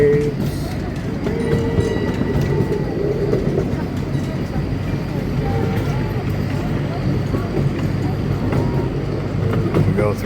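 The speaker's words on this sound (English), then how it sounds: "There's the other train going." An amusement park train rolls past with a loud, continuous rumble and clickety-clack of wheels, while people talk and call out nearby over it.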